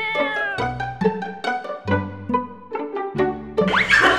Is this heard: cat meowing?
yes